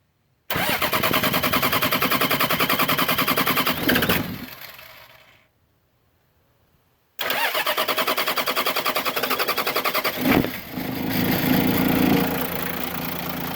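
A turbo diesel Toyota Troopy engine cranks over without glow plugs, its starter churning with a loud, rapid rhythmic chug for several seconds, pausing in silence, then winding over again at length.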